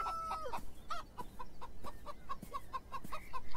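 Chickens cluck in a rural video game scene, a string of short rhythmic clucks and calls repeating steadily at moderate distance, alone without talk.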